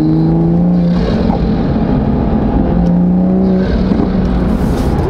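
A B58-engined sports car revs loudly up close, its engine note rising and falling in steady pulls with some whirring, and no voices.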